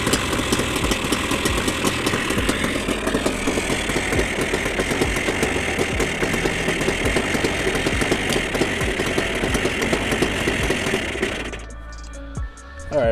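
A Yamaha Banshee ATV engine idles after a carburetor sync, a loud, steady, rapid two-stroke putter with knocking beats. It runs close and continuous before cutting off near the end, leaving a few faint clicks and rattles.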